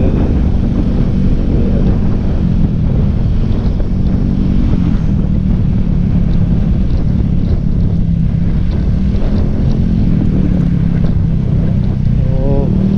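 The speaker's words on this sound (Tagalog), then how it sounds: "hampas ng hangin sa ating katawan habang tayo nagmumotor" Loud, steady wind roaring and buffeting against a microphone while riding a motorcycle, constant rushing noise with a low rumble underneath, no pauses.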